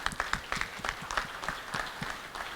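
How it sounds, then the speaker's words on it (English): Applause from a conference audience at Voxxed Days Singapore 2019, a tech event: many hands clap in rapid, uneven bursts from a moderately sized crowd, fairly close and steady throughout, with no speech over it. "they deserve a big, big round of applause"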